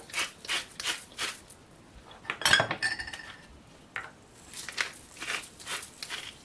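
Macaroni bake ingredients are stirred in a dish, with repeated scraping and clinking of a utensil against the dish in an uneven rhythm and one louder clatter midway.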